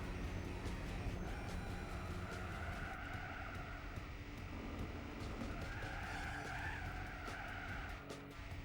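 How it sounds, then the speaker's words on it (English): Tyres squealing on a classic 1970s Japanese car lapping the 1980s Fuji circuit in Gran Turismo 4, a wavering high screech over a steady engine drone, loud and sustained, rising again near the end. "Ooh, bit of tyre squeal there."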